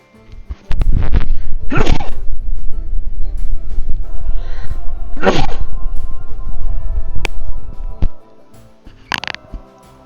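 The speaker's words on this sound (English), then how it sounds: "I'm about to sneeze." Someone sneezes loudly and close by, with sharp bursts separated by pauses and some knocking and handling noise between them.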